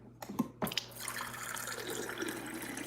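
Water runs into a drinking glass for a boba milk tea drink, starting after a couple of brief clinks and flowing steadily and close for a few seconds, alone with no talking.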